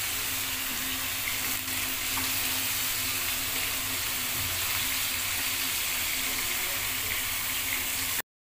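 Chicken pieces frying in a pan until golden for a creamy Afghani chicken dish, giving a steady, close sizzle with faint clinks of stirring throughout, no one speaking.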